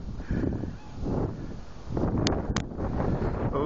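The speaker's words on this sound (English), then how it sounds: "it's windy and cold out here when you stop shoveling." Strong gusty wind buffets the microphone outdoors during a December blizzard, a steady low roar swelling and easing, with a couple of brief high squeaks near the end and no talking.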